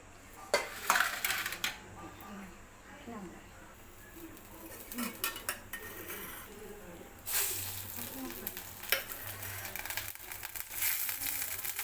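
A metal kadai pan set on a stove knocks and clinks close by, with scattered clanks and rattles of cookware among quiet kitchen background.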